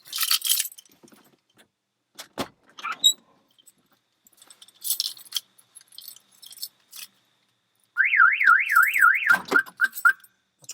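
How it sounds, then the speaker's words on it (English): A Mercedes Vito camper van alarm system goes off after scattered jangling of keys and handling clicks, its loud, warbling electronic siren rising and falling rapidly for about two seconds before cutting out. "after a delay, the alarm should go off."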